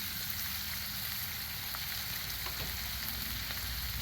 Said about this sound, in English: I could put the sausages on here so that they're not they're putting their grease and I'm not burning the sausage.